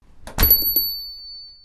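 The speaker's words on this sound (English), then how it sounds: "I heard the sound of the doorbell chime." A convenience store's electronic doorbell chime sounds nearby: a brief rattling onset, then a thin, high ringing tone that lingers and fades over about a second.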